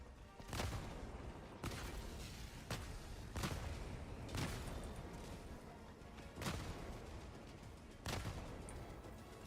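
An autocannon fires in a video game, sharp heavy bursts repeating roughly every second or two over a constant dense game-battle rumble, fairly quiet overall.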